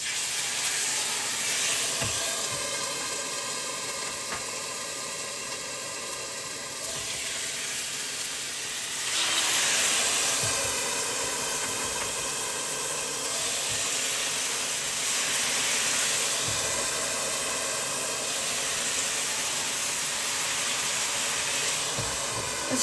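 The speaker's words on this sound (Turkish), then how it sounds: "Önce kızgın tavada bir mühürlensinler" Sauce-coated meat searing in a hot pan gives a steady, loud hiss and sizzle that swells and fades in waves, with faint clinks over it and no speech.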